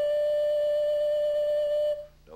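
A Native American flute holds one steady, sustained tone for about two seconds before it cuts off, played alone and close.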